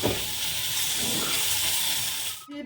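Oil hissing and sizzling steadily in a pan as ingredients fry in a home kitchen, a loud constant crackle that cuts off abruptly near the end.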